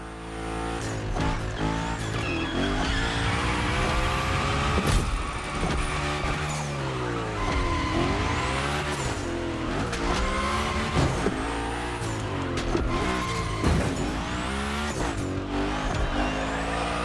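A Mitsubishi EVO IX Hoonigan car slides through gymkhana runs in the racing game The Crew Motorfest. The engine revs rise and fall with repeated tire squeals, loud and continuous, with no talk.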